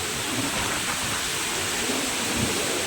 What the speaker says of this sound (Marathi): खूप जबरदस्त असा प्रवाह फिरू राहिला मित्रांनो.